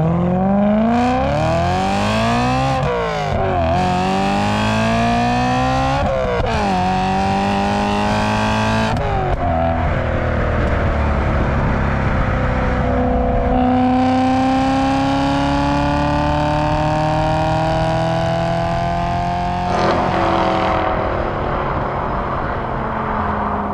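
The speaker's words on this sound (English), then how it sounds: "let's just fully experience the V8 with a nice pull up the road" A BMW E92 M3 V8 accelerates hard up a road, its engine rising in pitch through the gears with quick dips at each shift before a long, sustained, loud pull.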